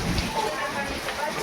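Heavy rain pours down steadily during a village hailstorm with gusty wind, a dense broadband hiss with low rumbling underneath, fairly loud and close.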